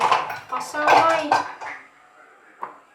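Plates, pots and cutlery clatter and clink in a kitchen during dishwashing, a busy run of clanks followed by quieter pauses and one sharp knock near the end.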